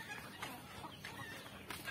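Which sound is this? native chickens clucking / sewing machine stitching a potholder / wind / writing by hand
native chickens clucking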